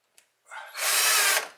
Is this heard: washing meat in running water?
no